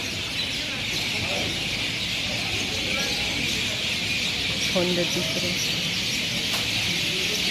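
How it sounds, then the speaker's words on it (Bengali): Birds, mynas among them, chirp and call from trees at dusk outside a hospital in Budge Budge, scattered and moderately near, while a person talks over them. "পাখির ডাক শুনছিলাম অনেকক্ষণ ধরে।"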